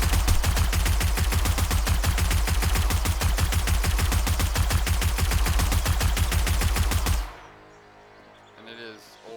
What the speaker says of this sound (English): I really love this dev gun they got. This instant death pistol. It is fully automatic handgun.